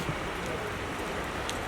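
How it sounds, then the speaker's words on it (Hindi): Steady rain falls as a dense, even hiss with scattered drop patters, close and continuous for the whole short stretch, with faint voices in the background. "अरे इतनी बारिश हो रही है, अभी कैसे जाओगे आप?"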